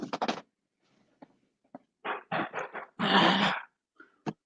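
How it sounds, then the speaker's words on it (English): Dogs scuffle and growl indoors during a Halloween night, with short bursts of grumbling and snarling separated by quiet gaps, a longer rough growl in the middle and a final sharp yip. "Hear the dogs dancing around in there."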